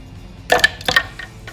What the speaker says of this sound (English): Add some ice cubes